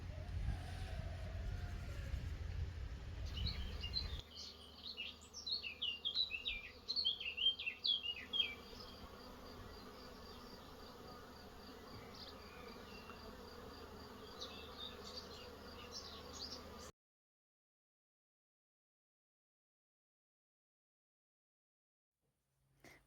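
Bees buzz inside a house attic, a faint steady droning hum with occasional louder passes of individual insects nearby, over a low background rumble that cuts out before a long stretch of silence.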